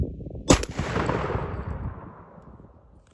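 A single loud blast from a 20 gauge shotgun firing a Federal Grand Slam turkey load, close by, with a long rumbling echo fading over the next couple of seconds.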